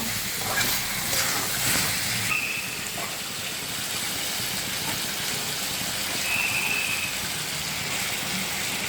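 Chital fish pieces sizzle and hiss in hot oil in a pan during frying, a broad steady crackling sizzle that stays close and fairly loud with no voices.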